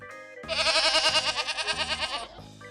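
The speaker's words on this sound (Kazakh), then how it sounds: "Ешкі," A single goat gives a loud, close, long wavering bleat with a strong tremolo, set over light background music.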